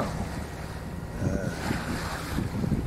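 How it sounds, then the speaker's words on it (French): Wind gusts across a sailboat at sea under way on a crossing from Pollença to Palamós, a constant roar of wind and microphone buffeting mixed with the wash of waves against the hull. "il y a un peu de vent"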